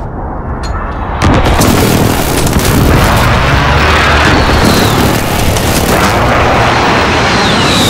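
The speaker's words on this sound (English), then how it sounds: "Friendly precision airstrike on the way." Precision airstrike explosions in Call of Duty Modern Warfare: after a brief quieter lead-in, a sudden, very loud barrage of booming blasts and rumbling detonations rolls on continuously, close and overwhelming.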